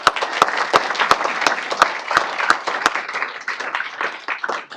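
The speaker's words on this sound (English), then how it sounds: "Give them a round of applause, please." Applause from an audience at a city council meeting honoring a first-place youth soccer team, steady dense clapping with a few sharp individual claps standing out, holding throughout and thinning slightly toward the end.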